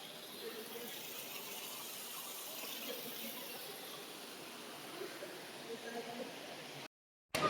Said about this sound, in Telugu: ఇక్కడ చిన్న ఆర్టిఫిషియల్ వాటర్ ఫాల్ ఉంది